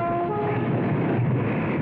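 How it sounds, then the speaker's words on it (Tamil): A train rumbles steadily close by, with a faint sustained horn-like tone over the low clatter. "ட்ரெயின் வருது பாத்து"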